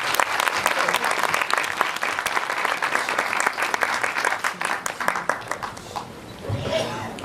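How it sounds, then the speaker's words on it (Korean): A large audience applauds for four speakers in dense, loud, sustained clapping. It thins out and fades toward the end as a voice begins to speak. "다시 한번 좋은 말씀 해주신 이 네 분께 다시 한번 큰 박수 드리고 마치겠습니다"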